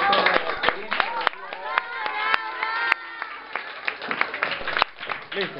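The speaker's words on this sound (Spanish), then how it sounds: "Un aplauso para el profesor Gómez, Leonidas Gómez," Audience applause for Professor Leonidas Gómez after a school water-expansion experiment: a room full of hands clapping steadily at moderate loudness with crowd murmur mixed in, a few sharper claps standing out.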